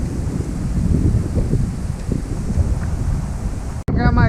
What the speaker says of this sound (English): but it's kind of hard going, as windy as it is.